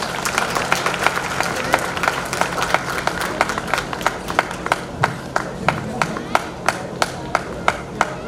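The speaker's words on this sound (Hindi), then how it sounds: "जोरदार तालियां इनके लिए भी।" Applause at a Dr. Ambedkar Jayanti 2019 medal presentation for Miss Bhavya Pawar, a modest group clapping in sharp, fairly regular strokes that grow more distinct toward the end, with a faint murmur of people talking underneath.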